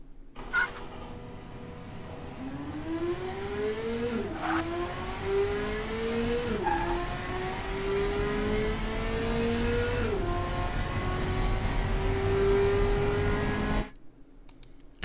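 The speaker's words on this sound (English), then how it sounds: "As you could hear from the tire squeal in the third gear, we are still making quite a lot of wheel spin" A 1987 Marina Spark MkV in the Automation racing game accelerates through the gears, the engine note climbing and dropping at each shift, with tire squeal from wheel spin in third gear; loud and steady, no talk.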